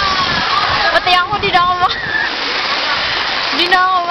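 Strong floodwater rushes and splashes loudly and steadily as people evacuate, with voices talking over the constant torrent.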